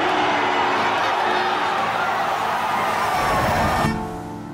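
A large stadium crowd cheers loudly and continuously for footballer Zlatan Ibrahimović, a dense roar that holds steady and then drops away abruptly near the end.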